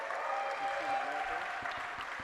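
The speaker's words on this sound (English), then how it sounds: "please give yourselves a round of applause" A convention audience at a games awards event applauds in a soft, distant, continuous patter, with faint chatter beneath it.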